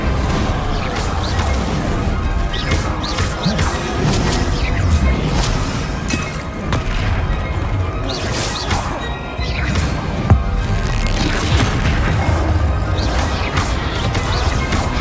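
Repeated spell impacts in the Hogwarts Legacy video game, loud crashing and shattering blasts that land in quick succession over a constant rumbling backdrop of combat, close and forceful, with no talking.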